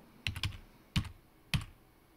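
Keys clack on a computer keyboard during a drone flight-controller setup, three close, distinct bursts of presses: a quick double tap, then two single firm strikes about half a second apart.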